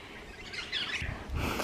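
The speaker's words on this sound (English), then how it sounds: "Sulphur-crested white cockatoo." A sulphur-crested white cockatoo calls outdoors in Australian bush, giving harsh, raspy screeches that rise out of steady wind or background noise, fairly close and loud across the short stretch.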